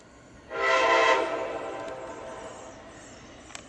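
A train horn sounds one long blast near Perryville, rising suddenly, holding for about a second, then fading away into distant rumble, heard alone without talk.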